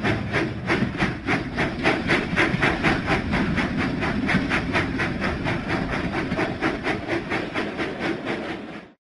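Cartoon steam locomotive Thomas the Tank Engine from a children's video game, chuffing steadily down the track in a fast, even rhythm of puffs over a continuous rolling rumble, loud and close throughout.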